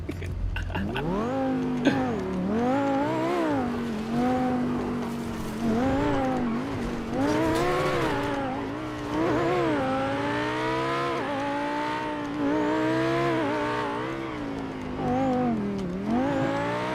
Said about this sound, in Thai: รถก็ดังเกิน ท่อมันดังพี่